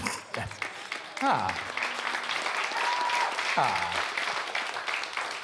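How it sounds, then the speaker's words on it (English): Comedy-special audience applause that starts thin and builds into steady clapping, with a voice speaking over it. "I like that applause started with one person and then everyone else is like, we'll all be in this relationship together"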